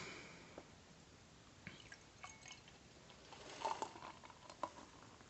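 Anchor Porter beer pours into a Stella Artois glass as a faint, soft trickle with small splashes and gurgles, quiet and close.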